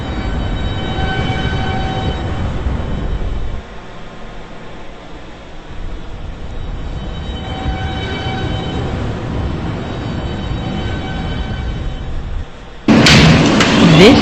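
A New York subway E train rolls along the BMT Broadway Line, a loud steady rumble and rattle of the cars in a tunnel that dips and swells, ending with a sudden bright chime or announcement tone.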